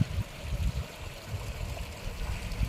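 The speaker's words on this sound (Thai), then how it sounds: "จุดนี้ก็เป็นแม่น้ำโขงอีกนะครับ เป็นแม่น้ำโขง" Mekong River water flowing by a boat dock at Khong, a soft continuous trickle and gurgle with low sloshing, fairly quiet and with no talking.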